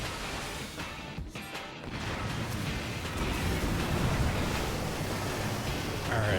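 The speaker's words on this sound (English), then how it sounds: "And he's going to smack the water again." A boss in Final Fantasy XIV smacks the water, a loud rushing crash of splashing surf-like noise that swells and holds steady to the end, with no talk over it.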